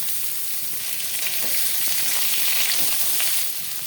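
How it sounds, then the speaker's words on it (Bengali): Cut pumpkin pieces fry in a pan with cumin seeds, potato and turmeric, giving a steady, close, bright sizzle that holds throughout with no talking. "দিয়ে দিলাম কেটে রাখা কুমড়ো"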